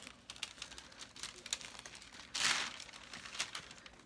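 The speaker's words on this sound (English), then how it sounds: "I'm just going to continue to tear the paper away." Wet paper torn by hand for a flower craft project: soft, faint crinkling and rasping tears in short bursts, with one louder rip near the middle, close and quiet with no talking.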